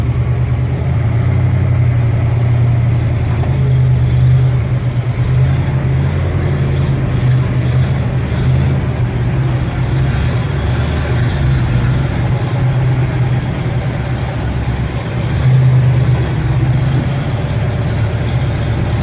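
A car engine idles steadily and loudly up close after being started, a constant low rumble with little change over the whole stretch.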